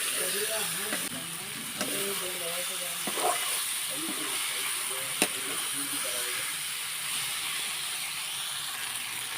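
Diced potatoes and chicken skin fry and get stirred together in a pan for a village-style dish, making a continuous close hiss and sizzle with occasional scrapes and clinks while a voice murmurs faintly underneath.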